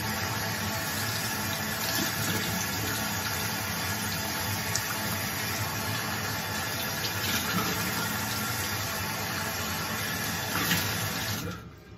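Water runs steadily from a tap for a face wash during a wet shave, a continuous close splashing hiss that stops abruptly at the end.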